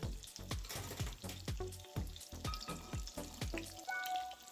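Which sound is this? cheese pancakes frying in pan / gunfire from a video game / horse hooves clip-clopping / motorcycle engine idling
cheese pancakes frying in pan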